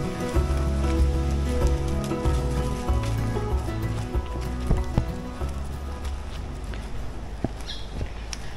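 Steady rain falling at a rainforest caravan park in the bush, a constant patter on surfaces with occasional louder drips, heard alongside faint background music and no talking.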